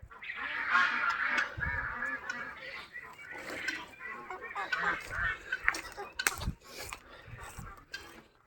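Geese and hens in a backyard poultry enclosure, with repeated nasal honks and clucking chatter in overlapping bursts at moderate distance, joined by a few sharp knocks.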